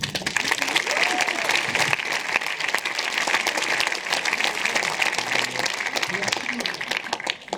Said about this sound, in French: C'est donc toute une équipe ce soir qu'il faut applaudir et je suis fier de la représenter.